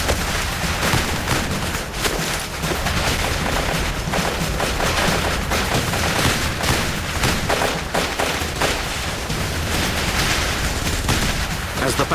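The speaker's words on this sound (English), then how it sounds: "The only cover was provided by our own gunfire." Intense battlefield gunfire on a mountainside between US Army Rangers and Al-Qaeda fighters: a dense, unbroken rattle of rifle and machine-gun bursts with heavier booms, loud and chaotic throughout.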